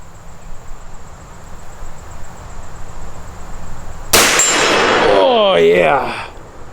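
A .50 caliber rifle shot strikes a steel target: one sudden loud crack, then a ringing metallic clang that fades over about two seconds after a quiet stretch of outdoor background.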